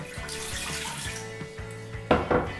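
Water pours steadily into a Ninja Foodi pot, a continuous trickle with a few louder splashes near the end, close and alone.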